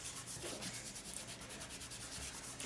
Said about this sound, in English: Just take your fingers, or you can use your bone folder. Just give it a good rub.